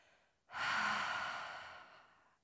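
A single deep inhale during a root chakra breathing exercise: a long, close, airy breath in that begins abruptly and slowly fades over about two seconds, with no talking.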